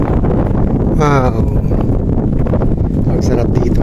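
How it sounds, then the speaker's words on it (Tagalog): Steady wind buffets the microphone at a breezy mountain viewpoint overlooking four peaks and the sea, a constant loud rumble running throughout with a brief voice partway through. "Ang sarap dito, mahangin."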